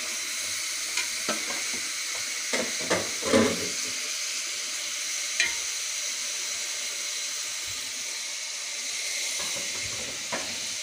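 Chicken and onions fry in a pan with a steady bright sizzle throughout, broken by a few soft clinks and stirring knocks.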